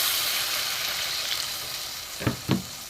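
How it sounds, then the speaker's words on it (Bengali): Fried spice paste for a thin rohu fish curry sizzles steadily in the pan, then water poured in near the end produces two sharp hissing bursts over the continuous frying. "মশলা দিয়ে কষা হয়ে গেছে, এতে আমি কিছুটা জল দিয়ে দেবো"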